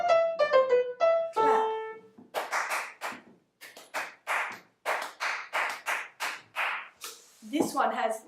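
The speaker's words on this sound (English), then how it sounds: "Clap." A short melody plays on a piano for an aural exam exercise, then hands clap out its rhythm in crisp, close, sharp claps with uneven spacing, standing alone in a quiet room.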